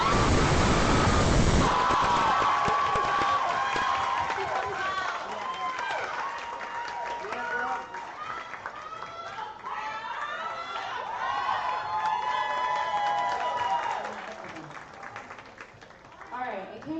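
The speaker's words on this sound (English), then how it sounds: "can I get another round of applause?" Loud, dense crowd applause bursts out at a young women's entrepreneurial pitch competition, then settles into lighter scattered clapping and murmuring chatter that fades near the end.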